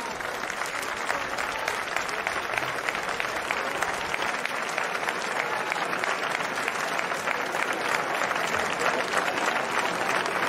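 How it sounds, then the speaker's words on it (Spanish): A crowd at the Fiesta de la Charrada in Ciudad Rodrigo gives a steady, dense round of applause during an award presentation, continuous and even throughout, with no voices over it. "Un gran aplauso, por favor"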